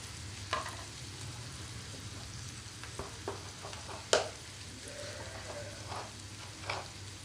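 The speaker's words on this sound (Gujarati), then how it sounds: "ટમેટા નાખ્યા પછી થોડી વાર એને પકાવી" Tomatoes cooking in a pan, a quiet constant sizzle with a few sparse stirring scrapes and one sharper clink near the middle, no voices.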